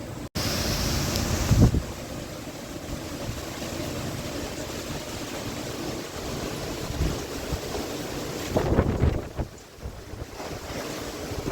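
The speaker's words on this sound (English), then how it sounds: "We're getting some pretty good gusts now" Strong Hurricane Milton winds roar steadily across the microphone, with heavier gusts surging at the start and again near the end, buffeting loudly throughout.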